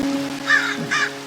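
Crows cawing in a Minecraft modpack game, two short harsh caws in quick succession over a steady low game hum, no talking.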